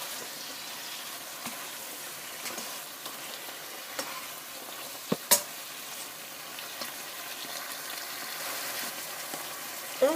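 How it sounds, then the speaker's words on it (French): Pork being stirred in a pan with soy sauce for caramel pork, a soft continuous sizzle with scraping stirs and a couple of sharp utensil clacks midway, fairly quiet and without speech. "Quand on a mis la sauce soja, on remue."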